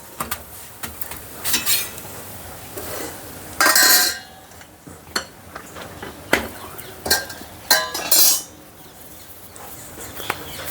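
Thepla flatbreads being placed on a mesh plate in a home kitchen, with scattered clinks and clatters of dishes and utensils, several louder scraping bursts, moderately close over quiet background.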